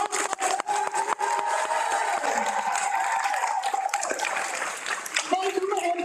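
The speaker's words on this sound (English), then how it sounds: "let's give these guys a round of applause." An audience at an adult education and literacy program graduation breaks into sustained applause, a dense field of many hands clapping with a few sharper nearby claps and scattered cheers.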